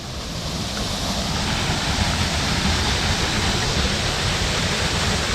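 A small waterfall in Ubud, Indonesia rushes in a constant, full roar of falling water, close and loud with no break and no talking.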